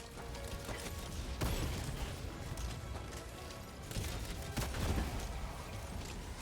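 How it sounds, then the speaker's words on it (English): Sustained enemy gunfire in the video game Helldivers 2, a dense, continuous barrage with several sharper bursts and impacts standing out from the steady roar. "He's shooting me sideways"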